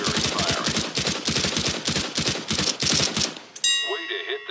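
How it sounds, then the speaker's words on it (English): Rifle fire from the video game CS:GO at a training target: a rapid, loud burst of many evenly spaced shots, ending with a ringing metallic clang. "Pick up that weapon and unload the clip into the target. Observe your bullet spread and weapon kick during firing."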